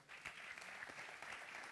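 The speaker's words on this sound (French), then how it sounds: "Bravo, on peut vous applaudir." A brief round of applause for competitors at an awards ceremony, soft and distant, an even patter of many hands that starts quickly and keeps going.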